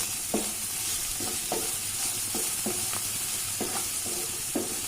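Chopped taro leaves with salt fry in a pan for a leafy Kerala stir-fry, a soft continuous sizzle under regular, evenly spaced spatula scrapes and stirs, about eight strokes in quick rhythm.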